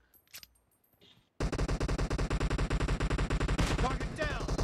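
Gunfire in a PUBG team deathmatch during a Kar 98 challenge: after a quiet, scratchy opening, a fast, loud burst of evenly spaced shots rattles on continuously for several seconds, with the game's sounds mixed in.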